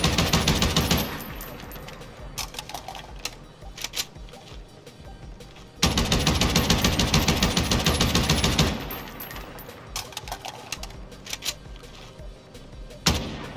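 Gunfire in Call of Duty: Warzone: loud bursts of automatic fire in two long sustained stretches, broken by scattered single shots and quieter gaps, with a sharp final shot near the end.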